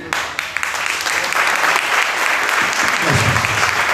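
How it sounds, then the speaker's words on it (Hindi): An audience claps steadily throughout at a church gathering for a Bible teaching session, a dense, loud round of applause with no speech over it. "बस जब आप लोग ताली बजाते हैं ना"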